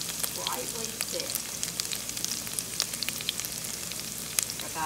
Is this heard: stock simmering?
yes